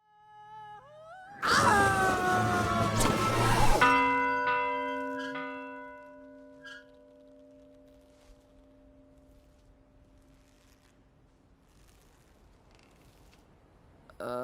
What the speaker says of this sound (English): The bell rang again, and the people notice it.